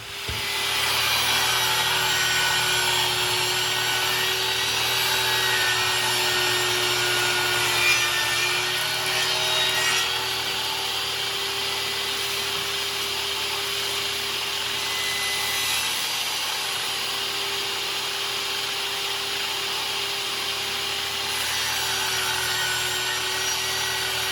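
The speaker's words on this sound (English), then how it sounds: "Did the compressor finally cut off?" An air compressor runs in a workshop, a continuous, loud, steady mechanical drone with a constant whine that holds unbroken throughout, with no talking.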